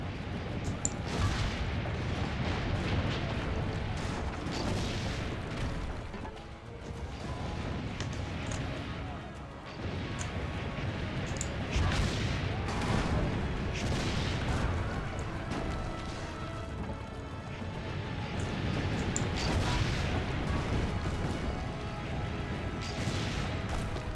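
Heavy cannon fire in an Assassin's Creed battle, with dense, continuous booms and crashes rolling over one another for the whole stretch under loud game action.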